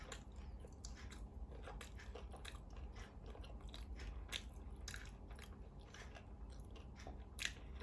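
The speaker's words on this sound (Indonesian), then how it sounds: "Mantap bunyi kriukannya, Kak." Crunchy food being bitten and chewed up close, a steady run of sharp crisp crunches repeating through the whole stretch over a low background hum.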